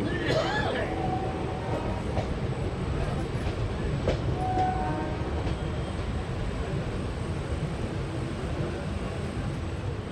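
The 13512 Asansol–Tatanagar Express pulls into Purulia Junction railway station, its low rumble and rattle continuous and loud throughout, with faint squeals and horn-like tones early on.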